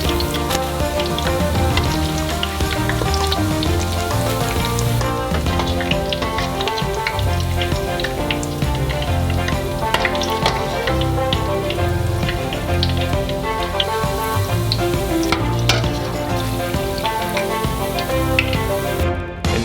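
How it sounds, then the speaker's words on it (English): Corn ribs deep frying in hot oil give off a steady, dense sizzle and crackle, loud and continuous throughout, with a tonal layer mixed underneath. "And now you can get the corn ribs out of the deep fryer."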